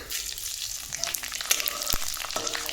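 Panch phoron five-spice seeds tempering in hot oil for ekadashi khichdi: a bright, continuous crackling sizzle with small pops and a few sharp spatula taps, close and without speech.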